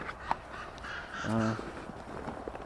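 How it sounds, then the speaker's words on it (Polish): Crows or rooks caw from beside a river in spring, one hoarse, harmonic caw mid-way at moderate distance over faint ambient outdoor noise and scattered small sounds. "No jakiś ptaszek próbuje mnie przekrzyczeć. Chyba, chyba kruki, gawrony."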